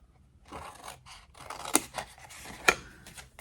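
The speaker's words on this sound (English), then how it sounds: "So taking out these end bits, cutting down to the second line" Scissors snip through card for a gift box, a run of close, crisp cuts and rasping slides, with two sharper snaps and no talk.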